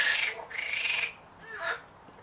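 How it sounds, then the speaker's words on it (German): Garden frogs calling, a few loud, close croaking squawks in quick succession with a short gap, alone without talk. "Meine Frösche melden sich mal auch wieder zu Wort."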